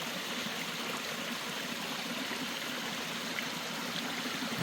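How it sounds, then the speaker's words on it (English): A small waterfall pours down a rock face beside a foothills hiking trail, a steady close rushing and trickling wash of water that holds evenly throughout with no voices. "it is the Hiker's Peril waterfall"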